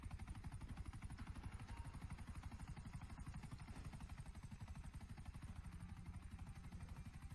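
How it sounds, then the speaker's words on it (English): A helicopter in the GTA V video game drones with steady rapid rotor chopping, a continuous pulsing engine hum heard faintly and alone throughout. "why are we driving a Minecraft helicopter?"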